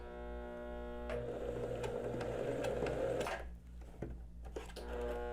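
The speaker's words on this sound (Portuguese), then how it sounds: "levanto o calcador, viro o tecido, volto mais ou menos uns 2 centímetros a costura" Sewing machine stitching fabric for a beginner's blouse, a steady mechanical whir running about three seconds before pausing briefly, then resuming with a low constant hum.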